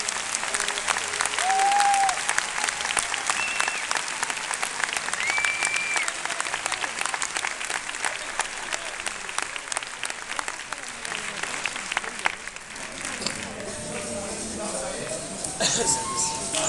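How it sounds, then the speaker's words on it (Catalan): Audience applause for prize winners at the award ceremony of a Coca-Cola short story competition, a sustained dense clapping from a crowd lasting throughout, steady and loud before thinning slightly near the end. "Aplaudiment per tots ells."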